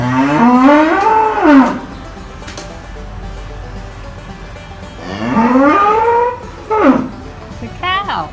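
A cow on a farm lets out two long, loud, close moos separated by a pause, followed by shorter calls at the end, with other farm sounds in the background.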